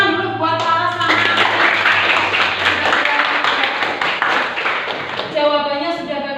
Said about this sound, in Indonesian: Tepuk tangan dulu buat para santri